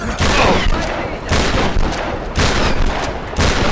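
Repeated shotgun blasts in the video game Tomb Raider, loud and close, booming in heavy bursts about once a second with no talk over them.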